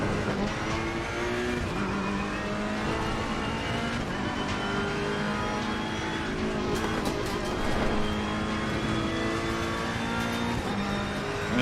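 Race car engines in a sim racing video game, a supercar among them, revving continuously with shifting pitch across gear changes, loud and steady throughout with no voices.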